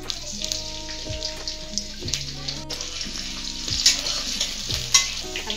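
Green chilies fry in hot oil in a kitchen pan, giving a continuous bright sizzle with intermittent utensil clinks and low background hum, no voices present.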